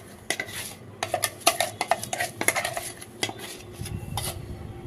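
Rice and curd batter scraped and spooned from a vessel into a pot, with irregular clinks and knocks of a metal spoon against metal dishes, close and clear with no talk.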